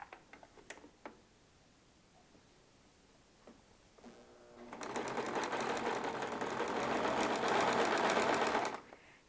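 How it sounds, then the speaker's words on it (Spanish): A sewing machine stitches bias tape along the edge of a jacket sleeve, running in one steady rapid burst of needle ticking after a few soft clicks and taps, close and fairly quiet. "Le vamos a dar la vuelta y sobre la orillita vamos a coser."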